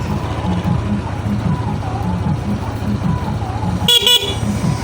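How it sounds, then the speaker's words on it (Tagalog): A Yamaha Aerox 155 motorcycle's low engine idles with a faint voice under it, then its stock horn gives one short, loud honk near the end. "Stock horn."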